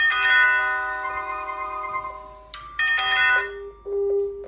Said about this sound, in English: press the doorbell. Okay, it's ringing and it's calling my phone as well